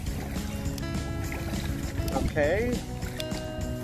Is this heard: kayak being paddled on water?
yes